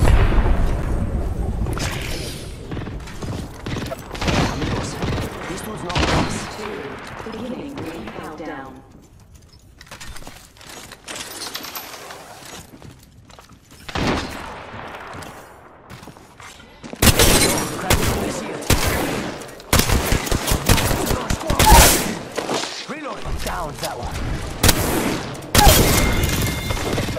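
Shotgun blasts ring out in Apex Legends Season 16 gameplay, heavy booming shots fired in quick irregular bursts, loud and close, with quieter stretches between volleys and a voice talking over parts of the action.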